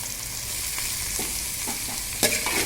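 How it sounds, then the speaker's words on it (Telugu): Carrot and cabbage pieces are stir-fried for noodles, sizzling steadily in hot oil while a spatula scrapes and taps the pan a few times, close and alone. "క్యారెట్ ముక్కలు వేసుకుందాం ఇవన్నీ బాగా వేగాల ఇప్పుడు క్యాబేజ్ వేసుకుందాం"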